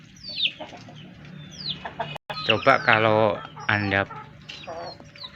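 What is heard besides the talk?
chicken clucking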